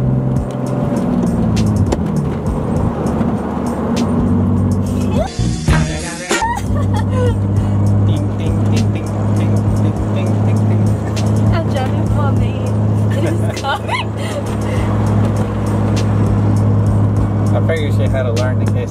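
BMW E36 with a manual gearbox driving in third gear, a steady engine drone and road noise heard from inside the car, with people talking over it.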